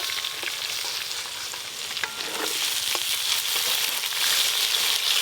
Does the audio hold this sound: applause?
no